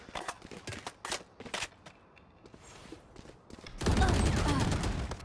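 Valorant gunfire arrives as spaced, sharp shots and a few short bursts with footsteps between them, then louder sustained firing near the end.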